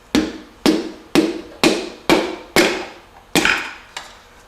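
Eight sharp metallic hammer taps drive a greasy piston and connecting rod into an MGB engine block, spaced about half a second apart, close and loud, each ringing briefly before fading, the last ones slightly softer.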